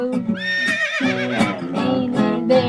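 A sung horse neigh in a children's farmyard nursery rhyme, a wavering whinny-like vocal line with musical backing, loud and close; a voice imitates the horse rather than a real animal.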